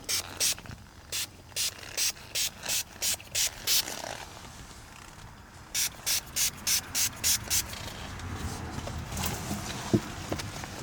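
Rapid bursts of a trigger spray bottle of Shine Armor car detailing product on a 3000GT VR4, two runs of about eight to ten quick spritzes each, close and crisp, with quiet handling noise between.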